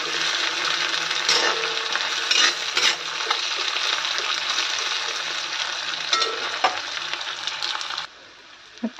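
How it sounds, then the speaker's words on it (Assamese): Onions frying in a pan for a local meat curry with pumpkin, a steady loud sizzle with occasional scraping stirs and clinks, the sizzle dropping away abruptly near the end. "পিঁয়াজখিনি ধুনীয়াকৈ ভাজি লওঁ"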